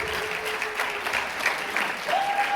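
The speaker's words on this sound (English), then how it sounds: "All of you take a nice big bow and give them a big round of applause" Steady round of applause from a high school audience for hypnosis show volunteers taking a bow on stage, with a few whistles and shouts rising above the clapping.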